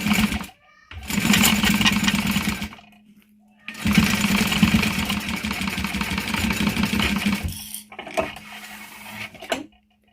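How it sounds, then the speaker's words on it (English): Sewing machine stitching a 1/4 inch seam with backstitching at start and end, heard as close, steady mechanical whirring runs broken by short pauses, ending in a brief final burst. "I will be sewing this at a 1/4 inch seam allowance, back stitching at the beginning and the end."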